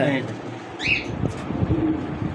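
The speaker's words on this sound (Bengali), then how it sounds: "দেখেন এই যে কবুতর" Pigeons at a bird market give short soft coos and a brief call close by, mixed with background chatter and people talking.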